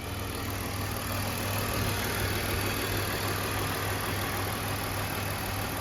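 A BMW engine idles steadily while warming up, a low, even hum with a faint broadband hiss held at a constant level with no talk over it.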